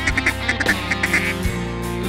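Rapid, nasal quacks from a duck call repeat in a quick rhythm over a music backing.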